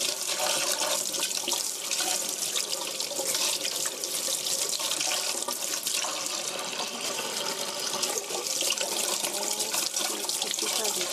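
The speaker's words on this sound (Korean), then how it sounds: "흐르는 물에 이렇게 씻어주세요." Raw chicken being washed under a running kitchen tap, a steady hissing stream of water splashing into a sink, close and continuous throughout.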